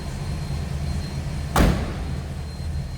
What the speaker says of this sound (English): Door closes nicely.